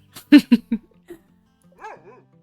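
Caesar, a pet dog in the video game Witchy Life Story, gives three quick, loud barks and a softer follow-up bark, then a quieter whining yip after a short pause, with no voices.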